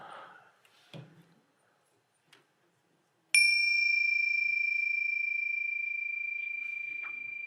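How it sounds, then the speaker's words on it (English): A small bell bearing an Om symbol is struck once after some quiet handling noises. It gives a bright, clear, high ping that rings on and slowly fades, loud and close, with no voices. "Thank you for the bell."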